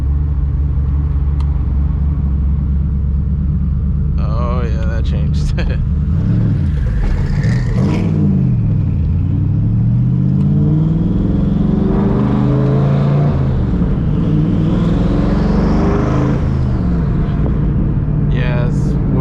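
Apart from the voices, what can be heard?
Ford SVT Cobra exhaust with cutouts open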